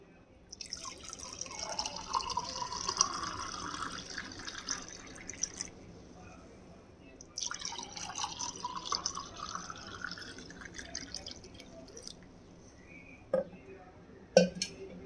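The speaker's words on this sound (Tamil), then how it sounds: "தண்ணியை சேர்த்திட்டு ஒரு கிளாஸ்க்கு நம்ம டம்ளருக்கு மாற்றிடலாம்." Mint lemon juice is poured into a tumbler in two long, close streams, each a few seconds of trickling liquid, followed by a couple of sharp clinks of the glass.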